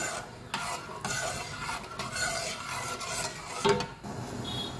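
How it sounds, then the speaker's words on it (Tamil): Quiet bubbling and soft sizzling from sugar syrup boiling in a pot on the stove, with faint stirring and scraping sounds, no talking. "சர்க்கரை நல்லா கரைஞ்சி நல்லா கொதி வரட்டும்."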